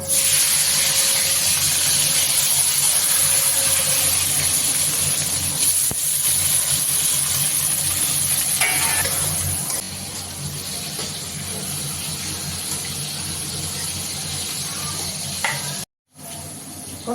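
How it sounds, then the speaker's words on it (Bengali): Tomatoes frying in oil in a pan make a constant strong sizzling hiss that eases slightly partway through and then carries on evenly. "এখন টমেটোগুলো ভেজে নেব।"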